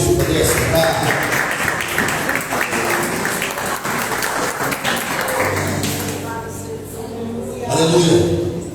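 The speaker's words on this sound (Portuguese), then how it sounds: "Uma salva de palmas para Jesus." A church congregation at a Sunday service applauds for Jesus, a sustained wash of many hands clapping that fills the room, then tapers off into lighter sounds and a brief swell near the end.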